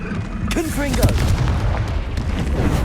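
Confringo blasting curse explodes in Hogwarts Legacy combat, a loud booming burst with rumbling low end, mixed with a voice shouting over it and further thuds of battle.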